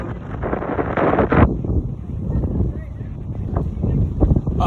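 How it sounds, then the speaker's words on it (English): A high windstorm with strong southwest winds near 40 miles per hour in Winnsboro, South Carolina, roars and buffets steadily against the microphone, with louder gusts throughout. "So, this is a high wind storm."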